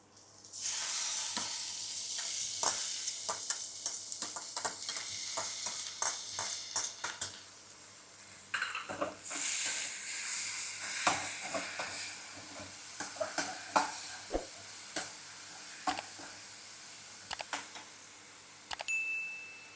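Carrots and beans tossed in with sautéed onions for a stir-fried poriyal hiss and sizzle in a hot pan, with a sharp burst of frying midway and scattered spoon clinks and scrapes, close up with no speech.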